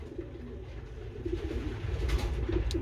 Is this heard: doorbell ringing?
no